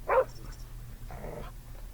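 A video-game dog lets out a sharp bark followed by a lower, rougher growl, brief and fairly close, with game ambience underneath.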